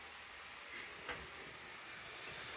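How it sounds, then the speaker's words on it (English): Faint, steady hissing sizzle from scallops cooking in a pan, soft and continuous with no voices. "We've got a little bit of sizzling going on with our scallops there"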